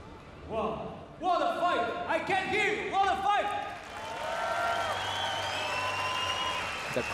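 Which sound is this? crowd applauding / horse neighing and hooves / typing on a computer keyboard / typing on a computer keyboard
crowd applauding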